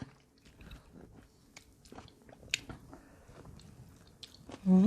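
Close, quiet chewing and biting of fried snakeskin gourami with rice and papaya salad, soft wet crunches in an irregular rhythm, ending with a short vocal murmur.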